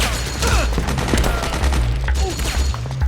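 Heavy automatic gunfire in Metal Gear Solid 4, dense overlapping bursts and rapid shots forming a loud, continuous battle din over a deep rumbling low end.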